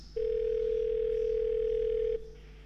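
A single steady electronic tone, like a telephone ringback or dial tone, sounds for about two seconds on an AI-placed call booking a hairdresser appointment, then cuts off, leaving faint line hiss.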